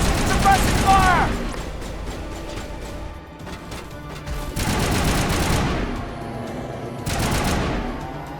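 Bursts of gunfire erupt in a Mass Effect firefight, several loud machine-gun volleys separated by short pauses, with a voice speaking early on amid the shooting.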